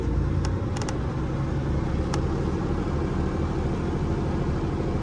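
A car pulling a trailer idles in a steady low rumble while it reverses slowly across grass on a farm, with a few faint clicks over the constant engine hum and no speech.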